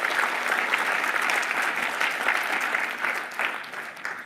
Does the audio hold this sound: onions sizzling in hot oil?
no